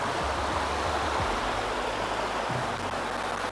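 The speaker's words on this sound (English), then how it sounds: "So I've arrived here at a small waterfall." Small waterfall on the Isle of Arran, Scotland, roaring in a dense, continuous rush of falling water, loud and close, filling the whole stretch without pause or voices.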